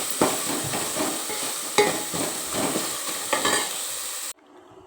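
Onions fry in oil for a sprouted-bean curry, a close crackling sizzle broken by repeated stirring scrapes, then cutting off abruptly into near silence.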